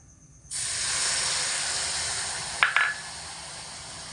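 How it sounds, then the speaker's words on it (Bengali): Sugar and water cooking into syrup in a wok sets off a sudden, steady loud hiss, with a brief metallic clink from the stirring utensil partway through. "এবার অনবরত নাড়াচাড়া করে চিনির রসটা তৈরি করে নেব"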